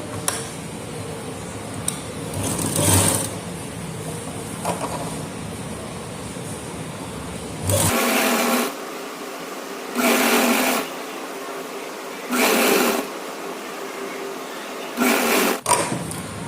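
A sewing machine stitches an underground seam along the folded inner edge of a salwar, running in several short close bursts separated by quiet pauses.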